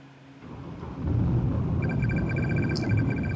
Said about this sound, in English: As the thunder and rain grow in intensity